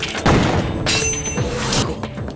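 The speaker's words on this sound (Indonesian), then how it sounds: "Denny berhasil menembak Bocil ini, sehingga bawahannya tidak terbunuh saat itu." Gunfire from an anime film about a child hired to kill gangsters: sharp booming shots and impacts burst out amid a busy, layered soundtrack, with brief high tones ringing over the blasts.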